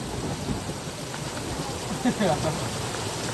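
Heavy rain comes down at home in a continuous, close hiss of falling water, with a low rumbling undertone and a short stretch of someone speaking partway through.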